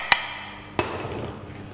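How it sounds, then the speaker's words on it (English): A metal whisk is dropped into a mixing bowl of brownie batter: two sharp clanks spaced apart, with a faint rattle settling after the second. "we're going to drop the whisk"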